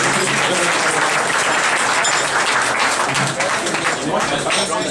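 Sustained audience applause fills a dinner ceremony, dense continuous clapping from a crowd at steady loudness throughout.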